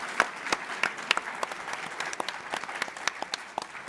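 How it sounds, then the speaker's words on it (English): Audience at a health ideas festival panel applauding, a steady run of crisp individual claps from a modest crowd, moderately distant and continuing evenly throughout without talk. "if we could say a word of applause for Ruth"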